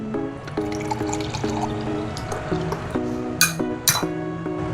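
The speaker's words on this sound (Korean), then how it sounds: "한 잔 말아보겠습니다." A drink is mixed and poured into a glass at a seaside seafood meal, liquid trickling and gurgling steadily up close, with light clinks of glass and two sharp knocks near the end.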